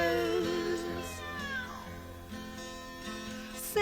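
A cat gives several drawn-out, wavering meows, fairly faint, over a soft, steady tonal background.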